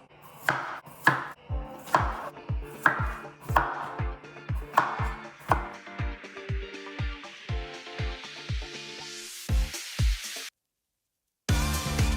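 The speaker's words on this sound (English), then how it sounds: "I cut up all the potatoes, cut up the carrots, skin the carrots first" A knife chops potatoes, carrots and celery on a board at home, a steady run of about twenty sharp, close thuds in even rhythm, ending with a brief pause and then a few more cuts.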